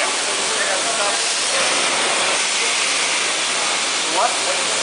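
A steady, loud rushing hiss of air blown out through a vacuum disc filter as its vacuum reverses to shed zinc concentrate, continuous and unbroken in an industrial mine plant.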